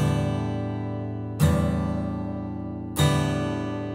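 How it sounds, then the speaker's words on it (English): An acoustic guitar is strummed down without palm muting, three open, ringing chords that each sustain and slowly fade before the next strum. "If I didn't palm mute it, it would sound like this."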